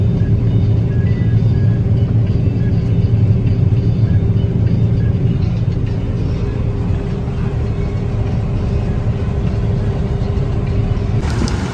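A combine harvester threshing sunflowers drones steadily with a dense, rumbling mechanical roar throughout, close and loud with no pauses.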